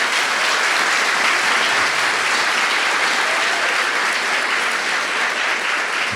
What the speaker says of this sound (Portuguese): Uma salva de palmas para o nosso seminarista.